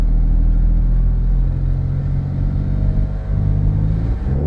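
A 2009 Honda Accord pulling away from a stop, its engine rumbling loud and close with a steady low drone that rises slightly in pitch toward the end.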